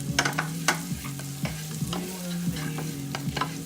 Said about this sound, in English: You just want to sweat them out and let them extract all the flavors into the butter.